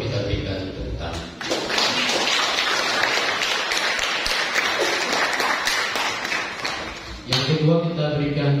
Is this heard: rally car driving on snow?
no